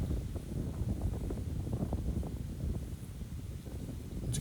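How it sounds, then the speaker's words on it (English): Strong gusts blow across a disc golf course at Logan College, a steady low rumble of wind buffeting the microphone with no voices. "Once again, that wind's blowing hard."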